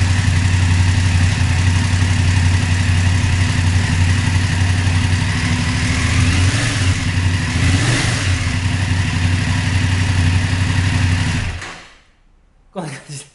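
A BMW F750GS motorcycle engine idles steadily and close up with a slight blip midway, then shuts off abruptly near the end, leaving a brief quiet tail.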